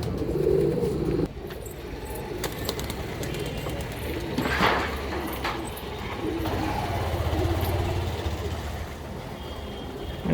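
Pigeons coo from a loft with a breeding section, their soft throaty calls heard near then fading, mixed with occasional clicks and shuffling sounds and a faint rumble beneath.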